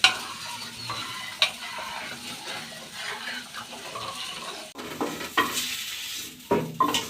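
Dal with turmeric and chili is stirred in a pot, wet sloshing and scraping strokes coming in irregular bursts up close, with a sharper clank midway and no voices.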